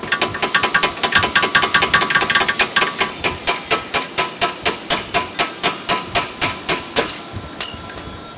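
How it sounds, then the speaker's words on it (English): A hand ratchet removes the lower strut bolt on a Mercedes CLS 500, clicking in a steady, rapid rhythm of loud, close strokes before a short pause and a final few clicks, with no talk. "Remove the lower strut bolt."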